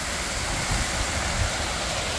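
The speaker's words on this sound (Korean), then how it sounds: "시원하게 폭포가 흐르죠" A waterfall flows in a mountain valley beside a guesthouse, a steady loud broadband rush of water without pauses or talking.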